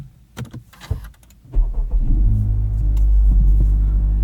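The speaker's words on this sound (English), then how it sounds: "this is a reasonably cold start, so you guys can hear what the PRL engine mount sounds like" A Honda Civic Type R FL5 engine with a PRL engine mount cranks on a cold start and catches, then settles into a steady, deep rumbling idle close by.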